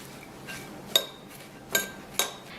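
A utensil stirs chopped chives with baking soda and cooked oil in a bowl, giving faint scraping broken by three sharp metallic clinks against the bowl, close and quiet.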